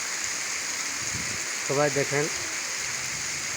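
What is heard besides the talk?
heavy rain falling with light wind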